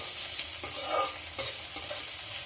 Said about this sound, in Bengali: পেঁয়াজটা একটু হালকা ব্রাউন করে ভেজে নিতে হবে।